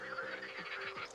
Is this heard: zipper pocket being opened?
no